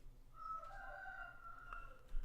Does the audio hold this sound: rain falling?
no